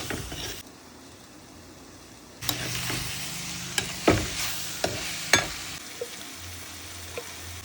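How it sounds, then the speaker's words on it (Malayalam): Prawns and beans stirred with crushed chili in a hot pan, a quiet start giving way to steady sizzling frying, broken by a series of sharp spatula scrapes and knocks against the pan, close up, with no talking. "നമുക്ക് അതിനകത്തേക്ക് ചതമുളക് ചേർത്ത് നല്ലോണം"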